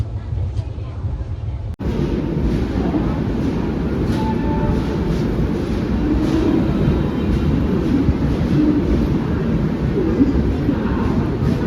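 A train halted at Hosapete junction rumbles with a steady, loud low hum and a faint hiss throughout, broken by a sharp click early on; a voice is heard faintly.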